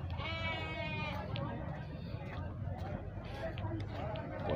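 Goats bleat at a livestock fair in a rural Brazilian town, one near, wavering cry rising above crowd murmur and other animal calls, while someone talks over the scene.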